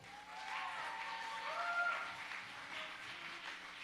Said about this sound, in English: Give one more round of applause for him.